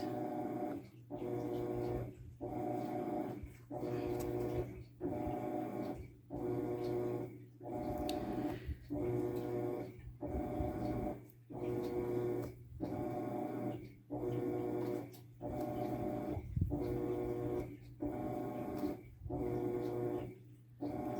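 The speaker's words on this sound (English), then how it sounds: "I'm just sewing it all at one time, both edges together" A sewing machine stitches both edges of a fabric snap bag in short, regular bursts of motor hum, each about a second long with brief pauses between them. The bursts are close and moderately loud.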